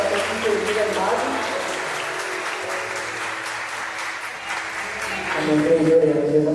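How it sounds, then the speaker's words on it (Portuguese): Applause at an evening church pre-congress gathering: a steady wash of clapping runs throughout, mixed with sustained musical tones and a voice, swelling a little louder near the end. "Uma salva de palmas, gente."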